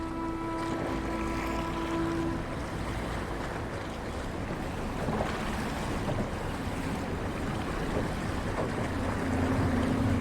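A fishing boat heads out to sea at daybreak off a fishing village near Muscat, a steady rush of engine, wind and water with waves washing continuously and no voices.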